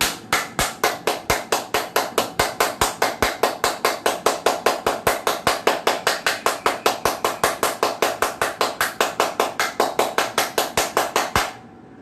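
Loud, steady hand clapping during a yoga session, about four claps per second, sharp and evenly spaced for nearly twelve seconds before stopping abruptly, with no talking.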